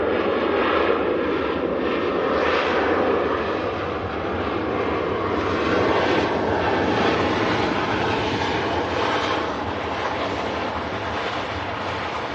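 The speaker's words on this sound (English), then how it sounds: "Ryanair flight 556 arriving in from Dublin, just a flight of 34 minutes" A Ryanair passenger jet arriving from Dublin gives a loud, steady, broadband engine roar that holds throughout without a break.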